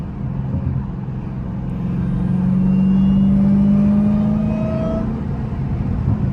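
Supercharged Dodge Hellcat with a Dragpack, driven in sport mode, holds a steady loud engine drone near the listener, with a rising whine that swells in the middle and climbs in pitch before easing off.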